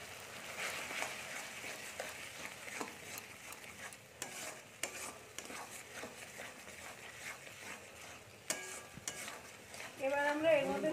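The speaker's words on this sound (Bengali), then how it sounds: "এবার আমরা দিয়ে দেবো ধনে আর জিরের গুঁড়ো" Ground coriander and cumin paste frying in a pan for a prawn curry, a soft steady sizzle with scattered stirring clicks and scrapes, fairly quiet, growing louder and busier near the end.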